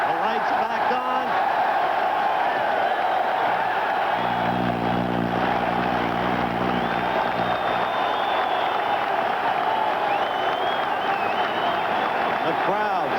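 A boxing arena crowd before a Marvin Hagler vs Alan Minter fight roars and applauds in a continuous heavy wash, with a loud horn-like tone sounding midway and a commentator's voice occasionally audible over the noise.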